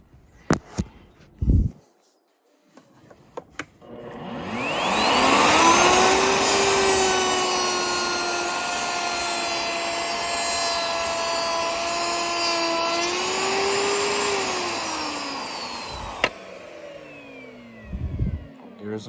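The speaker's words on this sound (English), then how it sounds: "adjust your router, and if it lines up, we are good to cut." Wood router with an adjustable tongue and groove bit cutting a groove: a few clicks, then the motor spins up to a loud steady whine that holds for about ten seconds and winds down, followed by handling knocks.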